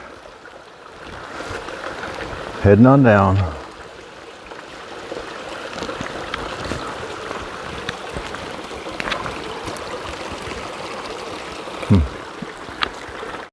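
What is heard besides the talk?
small stream flowing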